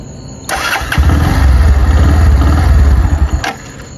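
A motorcycle engine catches at night near a water tank, then runs at a loud, close idle with a throbbing putter for about two and a half seconds before cutting off abruptly.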